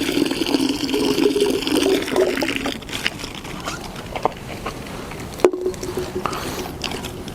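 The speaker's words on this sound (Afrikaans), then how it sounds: "Dit drup sommer so uit." Dirty cleaning liquid runs and drips out of a firearm suppressor tube, a close trickle at first that thins into scattered, soft splashes and drips.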